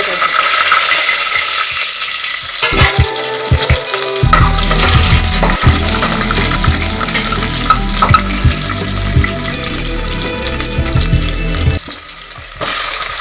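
Spices tempered in hot oil, ghee and dalda for a vegetable biryani, sizzling and crackling loudly and steadily throughout with occasional stirring clinks, no talking.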